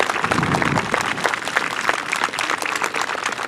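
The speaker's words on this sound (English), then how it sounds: "So let's give them all a round of applause." Applause from an audience at an outdoor high school graduation ceremony, steady dense clapping throughout, loud and close with no talk over it.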